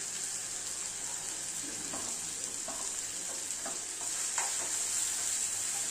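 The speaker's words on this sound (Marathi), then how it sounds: "आता हे तेलामध्ये छान परतून घेणार आहे मी." Kashmiri red chili powder and Malvani masala sautéing in hot oil for a Kolhapuri egg curry, a steady close hiss of frying with a few soft scraping stirs and no talk.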